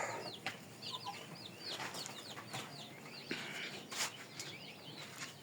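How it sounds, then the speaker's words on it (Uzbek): Many chicks cheep in a yard, a dense chorus of short, high, repeated peeps close by, mixed with faint scattered clucks and rustling. "Mana jo'jalar."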